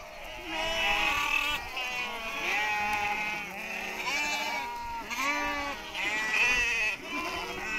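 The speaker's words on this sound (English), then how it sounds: "The goats can smell the water we are carrying in our car, and soon we are surrounded" Several goats in Kenya bleat repeatedly nearby, crowding around a car, overlapping wavering cries rising and falling in a restless chorus.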